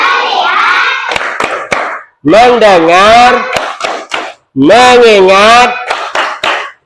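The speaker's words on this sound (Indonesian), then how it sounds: "Yuk tepuk fokus dulu" A class of children performs a rhythmic focus clap, bursts of sharp claps alternating with a teacher's melodic sung call and spoken lines in between.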